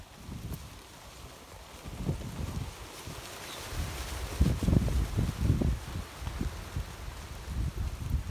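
Gusty wind buffets a microphone outdoors, rising and falling in irregular low rumbles and rustling bursts, with no voices.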